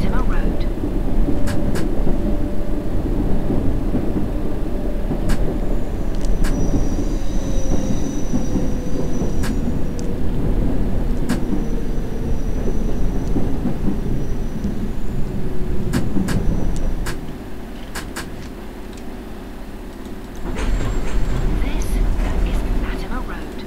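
A simulated subway train running in a World of Subways game: a continuous low rumble of wheels and motors with occasional high squeals and clicks, dropping lower near the end before picking back up, with a voice talking over it.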